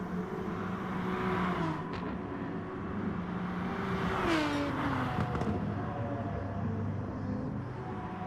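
Aston Martin race car engines screaming through a track race in a racing game at Kyoto Driving Park: loud, continuous high-revving engine drone with rising and falling pitch through gear changes and passes, steady and close throughout.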